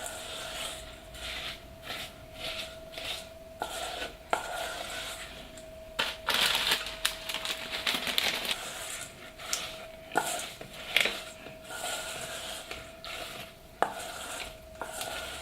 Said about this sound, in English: All you need to do now is stir that around.